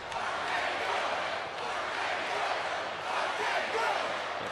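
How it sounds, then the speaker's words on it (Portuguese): A wrestling arena crowd on RAW roars steadily for the tag team RK-Bro against Dolph Ziggler and Robert Roode, a dense, continuous wash of cheering that fills the space without letting up. "Torcida toda do RK-Bro."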